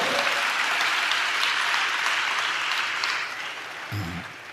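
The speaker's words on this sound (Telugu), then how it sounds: "చప్పట్లు కొడుతూ స్తోత్రాలు చెప్దాం." A church congregation claps loudly and continuously during worship, a dense crowd of hands that holds steady and then tapers off near the end.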